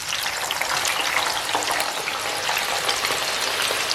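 Cashew nuts frying in oil, a dense, steady sizzle and crackle throughout, close and fairly loud, with no voices.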